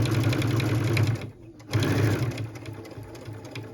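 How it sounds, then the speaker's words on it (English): Sewing machine stitching quilted stocking fabric close to the edge, a loud rapid mechanical whirr that pauses briefly, then resumes and continues steadily, heard up close. "I'm stitching really close to that edge"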